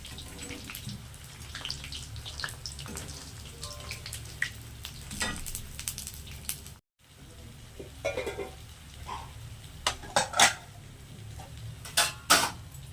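Lentil vadas for dahi bade fry in hot oil with a continuous low sizzle and scattered pops, broken by a brief gap and a few sharper clatters near the end.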